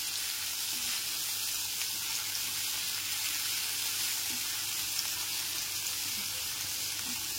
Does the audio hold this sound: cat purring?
no